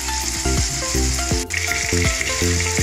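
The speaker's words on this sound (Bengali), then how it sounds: "এই 5 মিনিট চিকেনটা ভাজতে ভাজতে মাঝে মাঝে একটু নাড়াচাড়া করে দিই" Chicken fries in a pan with a loud, steady sizzle, under a regular beat of low thuds and a brief sharp crackle in the middle.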